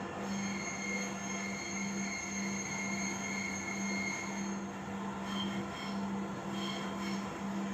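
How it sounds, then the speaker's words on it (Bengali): A Dhaka metro rail train runs steadily, heard from inside the carriage as a continuous loud rumble with a sustained low hum and faint wheel squeal, with no voices. "ট্রেন ছুটে চলছে তার আপন গতিতে।"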